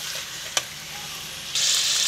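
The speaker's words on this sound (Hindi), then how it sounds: "ये देखिए मैं अभी भूनती जा रही हूँ" Mutton fries in oil with ginger-garlic paste for a karahi, a close sizzling hiss with one sharp clink of the spoon before the sizzle swells louder near the end.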